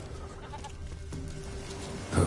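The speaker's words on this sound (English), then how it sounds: "Here, goat." A goat in The Witcher video game gives a short, close bleat near the end, after a stretch of quiet ambient game sound.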